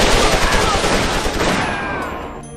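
A dense, rapid volley of gunfire rattles without pause in a Chinese drama about bandits, loud and close before fading slightly at the end.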